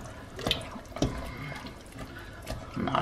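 Half a cup of water is poured into a cooking pot of meat, heard as a quiet splash and trickle broken up by a few soft knocks and clinks.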